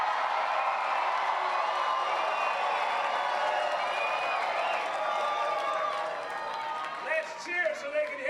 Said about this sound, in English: Let's cheer so they can hear us in New Jersey.